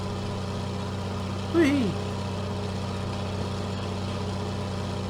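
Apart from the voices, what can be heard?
big growly Detroit diesel engine running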